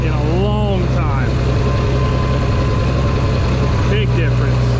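A Farmall 460 tractor engine runs with a loud, steady low drone up close, while people talk over it.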